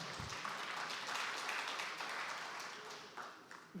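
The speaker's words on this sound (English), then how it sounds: "No, please go ahead if you want to clap." An audience at an agriculture conference session claps together in a sustained, moderately distant round of applause with a few scattered voices, tapering slightly near the end.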